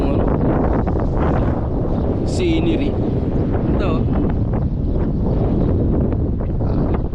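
Strong wind in a park buffets the microphone continuously with a loud, roaring rush while people talk over it.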